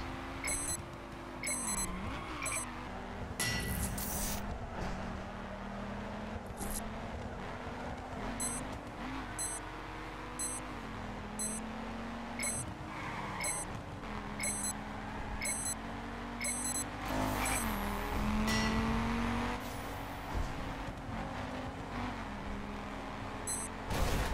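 Car driving in The Crew racing video game, a continuous engine drone rising and falling under repeated electronic beeps and chimes, moderately loud with no talk.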